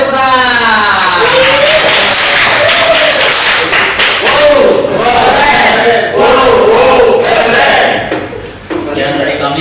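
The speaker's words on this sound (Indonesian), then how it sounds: "Beri tepuk tangan." Applause and cheering from a student group at the end of a class presentation, loud and continuous with shouting voices mixed in, dipping briefly near the end.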